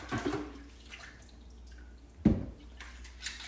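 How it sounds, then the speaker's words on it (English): Canning jars being washed in a basin of soapy water, giving soft watery sloshes and drips with one sharper splash midway, close by with no talk. "I just usually just put my jars in some soapy water"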